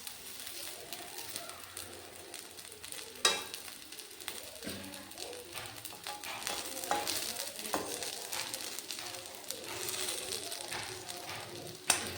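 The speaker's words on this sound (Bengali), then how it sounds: "লাল লাল করে সবগুলো ভেজে নিচ্ছি আমি" Papaya fritters (bora) frying in oil, a steady broadband sizzle throughout with occasional clinks and stirring noises, moderately loud and close, with no talking.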